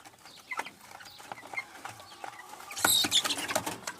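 Broiler chickens, hens and young cockerels, make soft scattered clucks and scratching sounds nearby, then a louder burst of clucking and rustling toward the end.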